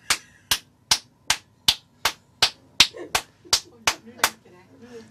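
A quick, steady run of about a dozen sharp hand claps rings out inside an elevator to choose a floor, close and crisp, with faint voices murmuring near the end.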